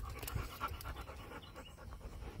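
Dog panting steadily in rapid, breathy bursts close by, a continuous rhythmic huffing through the whole stretch with no talk.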